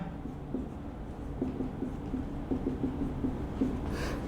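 Faint pen or chalk strokes scratch out a maths solution during a class 12 mathematics lesson on monotonicity, a series of short scribbling taps over a quiet room background, with no speech.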